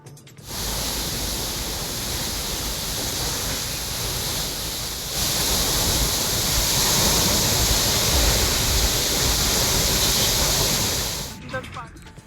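Water sprays 30 to 40 feet high from a burst double water pipeline beside the Pune national highway, a steady loud hissing roar that runs for about eleven seconds and swells partway through.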